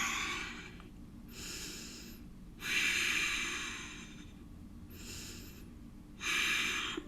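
Slow, deep breaths during a yoga pose: five audible breaths alternating between inhales and exhales, close and breathy, with quiet gaps between them and no speech.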